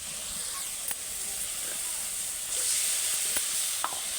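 Onions and tomatoes fry in hot oil for a fish curry, giving a steady close sizzle with a few faint clicks of stirring throughout.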